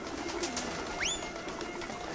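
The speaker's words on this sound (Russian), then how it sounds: "Мы привлекаем, короче, голубей, да?" Pigeons cooing in the absurdist video game Jazzpunk, a single rising, warbling bird call over a steady hissy game ambience, with a faint lower coo just before it.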